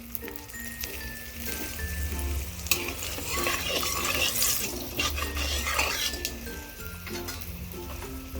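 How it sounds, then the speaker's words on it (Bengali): Green chillies sizzle and crackle in hot oil as tempering for a pangas fish curry, a close, continuous frying hiss with stirring and a few pops, no voices. "এখন ফোড়ন হিসেবে দিয়ে দেব 3টি কাঁচা লঙ্কা।"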